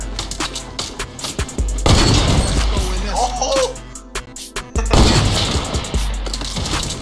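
Gunfire in the video game Fortnite, bursts of shots and impacts coming in irregular clusters, fairly loud, mixed with talking and game noise.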